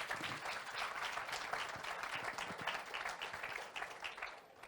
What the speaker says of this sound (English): Let's have a small round of applause.